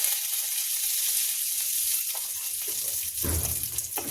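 A spoonful of cumin seeds hits a little hot mustard oil in a kadai for garlicky spinach curry. A loud, steady, hissing sizzle runs throughout, with a dull knock near the end.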